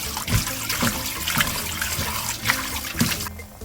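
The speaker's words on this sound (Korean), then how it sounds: "깨끗한 물로 세척해 주세요" An octopus is rinsed under running tap water, with a steady close splashing trickle broken by a few soft knocks and sloshes from handling, and no voices.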